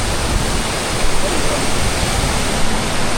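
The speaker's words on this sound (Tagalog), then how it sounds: "Waterfall." A waterfall at a fishing spot gives a steady, loud, broadband rush of falling water that stays constant throughout, with no clear voices over it.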